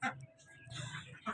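A few soft clucks from chickens, with quiet background rustle; short bursts at the start and end.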